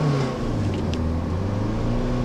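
Mitsubishi Montero Sport engine held at a steady high rev around 5,000 RPM in neutral, a loud continuous droning hum with sustained harmonic tones throughout, no voices.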